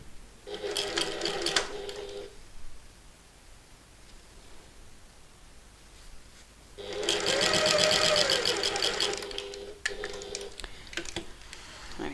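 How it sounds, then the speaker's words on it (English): A sewing machine stitches a dart on a bag in two loud, rapid runs separated by a quiet pause, with a short final burst of stitching near the end. "now I can sew from the bottom of the dart, back stitch again."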